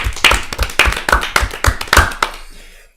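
A few people clap for the columnist Victor in a studio, a short burst of distinct, fairly loud hand claps in an uneven rhythm that trails off at the end.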